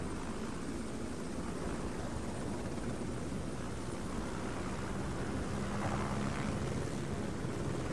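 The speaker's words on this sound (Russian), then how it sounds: "Звук вертолета." A helicopter in the video game Amnesia Polaris gives off a continuous, fairly faint rotor and engine drone that swells slightly toward the end, with no speech.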